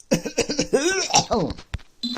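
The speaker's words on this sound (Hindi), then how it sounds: "सॉरी एक्सक्यूज खांसी के लिए, थोड़ी सी तबीयत ठीक नहीं है।" Several close, rough coughs in a cluster from a man who is unwell, tangled with brief bits of his voice, loud and near.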